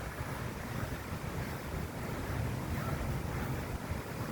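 Ocean surf washes onto a beach in a steady, broad roar mixed with gusty wind buffeting the microphone, with no distinct voices.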